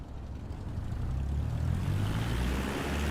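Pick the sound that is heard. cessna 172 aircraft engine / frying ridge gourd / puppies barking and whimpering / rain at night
cessna 172 aircraft engine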